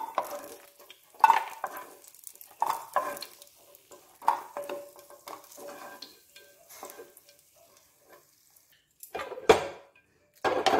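Fried cashews are scooped out of hot oil with a utensil in a series of distinct clinks and scrapes against the pan, each over a faint sizzle, with quiet gaps between scoops.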